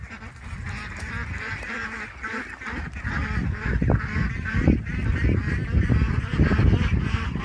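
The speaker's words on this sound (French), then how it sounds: "Et on va voir les dindes blanches." Loud, busy poultry calls, honking and gobbling from a flock of white turkeys close by, overlapping continuously with some scuffling underneath.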